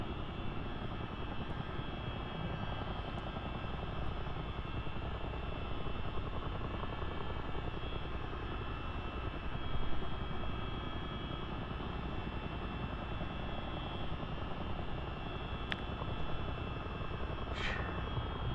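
Steady aircraft engine drone inside a cabin during a slow climb, with a thunderstorm setting, forms a continuous broadband rumble that stays even throughout, with a faint brief tick near the end and no voices.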